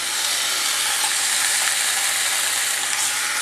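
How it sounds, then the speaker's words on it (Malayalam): Marinated chicken frying in hot oil for chicken mappas, a dense continuous hiss and crackle, close and steady throughout with no pauses. "ഇനി ഈ ചിക്കൻ ഈ എണ്ണയിൽ കിടന്നിട്ടൊന്ന് ഫ്രൈ ആവണം ചെറുതായിട്ട്."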